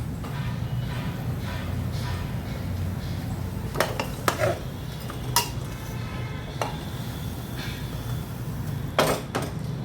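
Mutton stirred with hot water in a cooking pot for a rustic village-style meat curry, giving a steady wet churning with scattered sharp clinks of a utensil against the pot, close and moderately loud.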